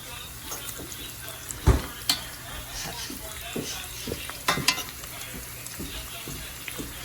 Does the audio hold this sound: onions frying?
yes